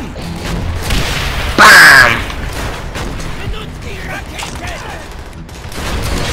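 A Panzerfaust rocket in Call of Duty: World at War fires with a single loud, sharp blast around the midpoint. Scattered battle noise and softer gunfire continue before and after it.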